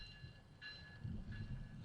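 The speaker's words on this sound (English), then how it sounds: "See what this train does." A train passes at a distance, a faint low rumble of rolling rail cars with a brief higher tonal whine, steady for under two seconds with no voices over it.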